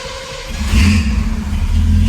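A carbureted car engine turns over and catches, its low rumble rising into a loud, close roar that holds steady for a couple of seconds.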